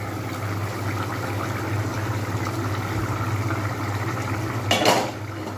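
A lid comes off a pot of potatoes and peas boiling in water, giving a short metallic clatter near the end over a constant bubbling, hissing simmer.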